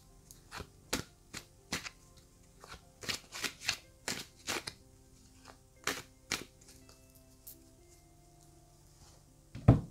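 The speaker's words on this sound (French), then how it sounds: "je vais commencer par battre les cartes" Tarot cards shuffled by hand in a quiet room, a series of crisp, close slaps and riffles at an uneven rhythm, with a louder thump at the very end.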